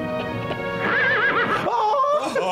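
A horse in a film scene lets out a loud, wavering neigh lasting about two seconds, rising and falling in pitch, heard alone without talk.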